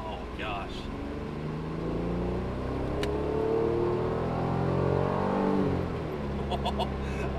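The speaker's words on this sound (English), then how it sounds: "Oh man, when does the VTEC kick in?" A Honda NSX engine pulls hard under acceleration, its rising, sweeping engine note climbing in pitch as VTEC engages, loud and close from inside the car, with people talking over it.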